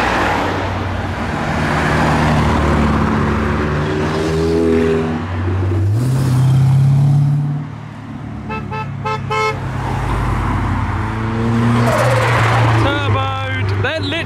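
A turbocharged Mark 1 or Mark 2 car pulls away from the Castle Combe circuit on a spring action day, its engine rising in pitch over steady traffic noise, with horn-like toots and voices nearby.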